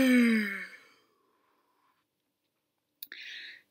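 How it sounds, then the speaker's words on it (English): A person gives one long voiced yawn that slides downward in pitch and fades over about a second. Near-silence follows, then a brief click and a short breathy hiss. "If you're sleepy and you know it, give a yawn."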